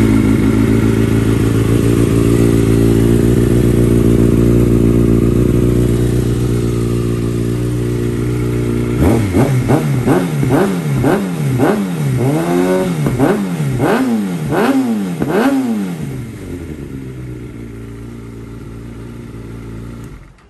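A 2013 Kawasaki ZX-6R 636 sport bike with KTRC idles steadily, then revs hard in a quick series of sharp throttle blips that climb and drop, loud and close with no talking.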